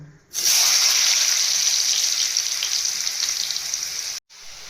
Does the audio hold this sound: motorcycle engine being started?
no